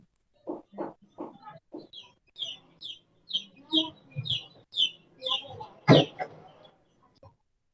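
A sparrow chirps in a quick run of short, high, bright notes close to the microphone, with someone speaking briefly just before the calls begin.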